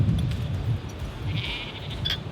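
Sheep out in a field give a few thin, high bleats over a steady rumble of outdoor ambience.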